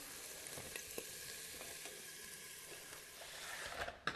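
Tempeh browns in a frying pan with a steady, soft sizzle and hiss, along with a few light clicks. A louder clatter comes near the end, and nobody speaks.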